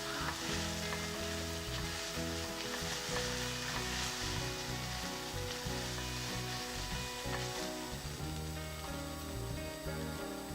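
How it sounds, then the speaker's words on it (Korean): Onions sautéing in a pan as the base for a mushroom cream soup, a steady soft sizzle running throughout at low level with faint stirring, no voices. "적절하게 양파를 볶아주고 있어요"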